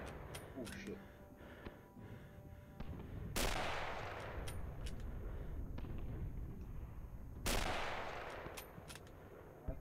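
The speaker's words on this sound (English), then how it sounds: "I hear a bullet flying by." Gunfire in the war shooter Red Orchestra, two sharp loud rifle cracks several seconds apart, each trailing into a long rumbling echo, with softer distant shots and voices chatting in between.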